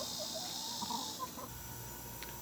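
Soft clucking from chickens in the background over a steady outdoor hum, with occasional faint bird calls.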